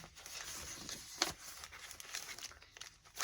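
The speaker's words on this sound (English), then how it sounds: "Nice crinkly paper, because I love crinkly paper." Soft, close crinkling of a crinkly paper map in a handmade Egyptian archaeology journal, with quiet irregular rustles and a few sharper crackles.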